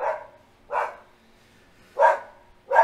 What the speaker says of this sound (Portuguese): Essa é a Kira latindo